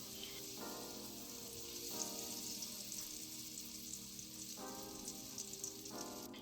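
Half a stick of unsalted butter with a little olive oil sizzles quietly in a pan, a faint, even crackle that runs throughout beneath a low background hum.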